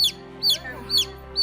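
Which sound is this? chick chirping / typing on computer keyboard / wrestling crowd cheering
chick chirping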